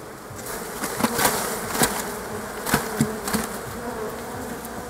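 A dense swarm of honeybees buzzes continuously up close inside a well-populated hive in March, a steady droning hum with occasional louder bursts and light knocks.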